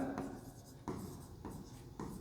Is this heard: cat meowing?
no